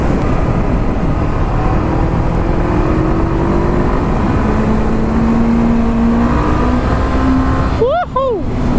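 Honda CB500F motorcycle ridden at a demo day, a steady loud engine drone with wind rush and a rising, shifting tone heard from the rider's position, with a brief burst of whooping tones near the end.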